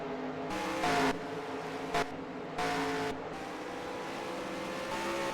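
Race cars in a 1955-era stock car race at Fireman's Park Speedway, a video game, roar steadily with engine drone and a few louder bursts as cars pass close by.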